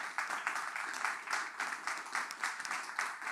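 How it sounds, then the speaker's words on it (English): Faint, pulsing applause from a small audience at a Linux software summit closing session, thin and distant-sounding, swelling and dipping in short waves for a few seconds with no voices over it. "We'll give you another round of applause for good answers."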